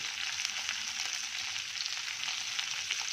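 Capsicum frying over high heat in a pan makes a soft, even hiss that holds steady throughout, fairly quiet, with only faint stirring and no voices.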